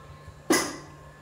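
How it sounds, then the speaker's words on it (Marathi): Chopped spinach tipped into a cooking pot for crisp spinach bhaji, giving a single soft rustling thump that tails off quickly, close and fairly quiet. "मी हा चिरलेला पालक पातेल्यात टाकून घेत आहे."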